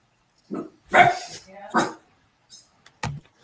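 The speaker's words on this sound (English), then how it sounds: "I like how the dog answered first." A dog barks several times in short, loud, close bursts at a home during a live sports chat, with people talking around the barks.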